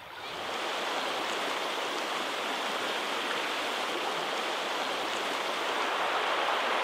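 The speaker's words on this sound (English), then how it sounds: "here we have the creek flowing down, a nice little run there" A trout creek runs steadily down a small riffle, a close, even, broadband rush of flowing water that holds at the same level throughout with no voices over it.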